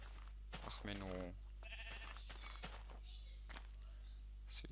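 Sheep in Minecraft bleat in a short wavering call, followed by a few blocky footsteps and game sounds, with someone talking over it.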